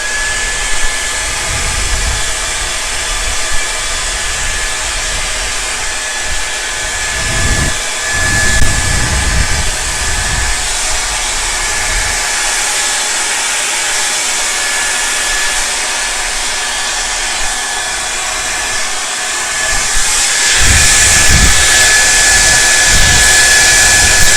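Hair dryer switched to its cool setting while drying a beard, a loud continuous close blowing hiss that holds steady throughout and brightens slightly toward the end, with no speech.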